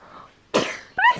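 A short, sharp burst like a sneeze or cough, followed a moment later by a second quick outburst, close and fairly loud.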